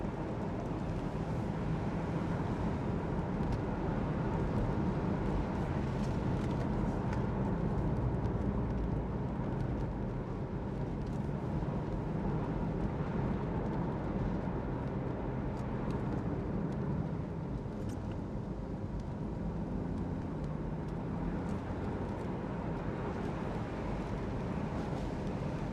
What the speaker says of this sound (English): I can just put my foot down on it, just a tad, just so you can hear the engine noise